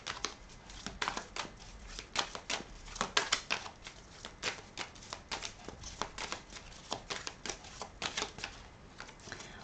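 Tarot cards are shuffled and laid out, giving a steady run of close, crisp card snaps and papery slaps in quick irregular rhythm, with no voice.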